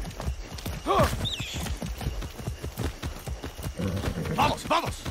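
Rapid rhythmic hoofbeats of a galloping horse in the video game Far Cry 6, steady and close, with someone talking over them and a brief whinny.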